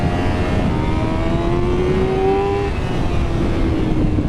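A Honda 1000cc sports motorcycle at speed on a race circuit in Thailand, its engine howling loud and continuous with rising and falling pitch through the gears, under steady wind roar.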